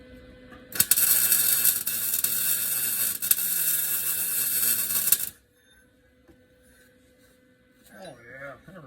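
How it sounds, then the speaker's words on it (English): Welding a new exhaust onto a 2005 Ford Ranger gives a steady, close crackling buzz for about four and a half seconds. It then cuts off into near quiet, followed by a brief voice. "All right, one side's welded."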